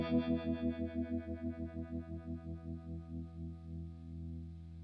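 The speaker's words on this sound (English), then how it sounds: "Now we're going to roll in some of the tremolo." Electric guitar chords through an Ernie Ball Expression Tremolo pedal, the volume pulsing in a steady rapid wobble that slowly eases as the tremolo depth shifts, sustained and fairly quiet with no voice.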